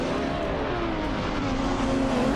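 A vintage 1970 Ford Mustang Boss races in a video game, its engine holding a loud, steady droning growl close up, the pitch dipping slightly and swelling again over the short stretch.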